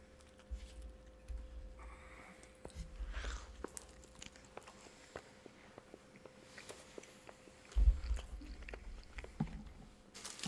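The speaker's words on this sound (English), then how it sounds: "I need to do an audio check on how loud my jaw pops when I chew" Someone chews with a jaw that pops, giving soft, moist mastication noises punctuated by faint, sharp clicks spread through a quiet room, with one stronger thump near the end.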